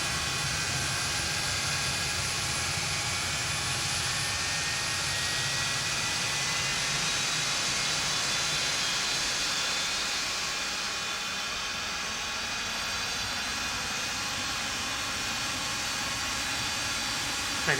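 Jet engines of a Felis 747-200 in a flight simulator spool up in a steady, loud, broad roar with rising whine tones layered over a constant low rumble, continuous throughout.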